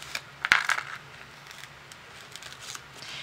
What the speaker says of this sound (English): I'm going to peel up the backing off of this vinyl